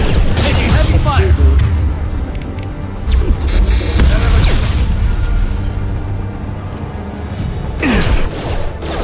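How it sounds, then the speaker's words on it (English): Heavy gunfire and explosions in the Mass Effect 2 video game, loud booming blasts and crashes layered with game effects, while voices talk over the combat. "Taking heavy fire!"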